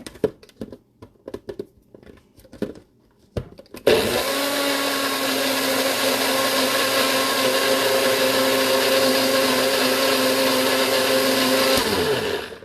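A few soft clicks and handling taps, then a blender whirs on loudly, blending ginger, and runs steadily for several seconds before cutting off.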